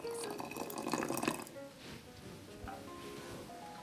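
Water poured into a pot to make tea, a splashing trickle for about a second and a half, then faint dripping with soft background sounds.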